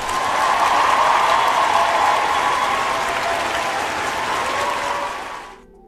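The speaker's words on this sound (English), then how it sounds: "give a round of applause." A comedy show crowd gives a round of applause, with loud, dense clapping that holds steady for several seconds before quickly fading out.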